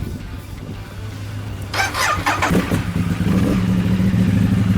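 A 2012 Ducati 848 Evo motorcycle fires up after a quiet moment, starting with a clattery crank and catch, then settling into a loud, close, rumbling idle with blips of revving.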